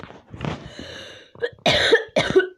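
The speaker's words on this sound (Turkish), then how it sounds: "Beni şimdi öksüresim geldi." Several sharp coughs in quick succession from one person, close and loud, with a throat-clearing quality and short pauses between them.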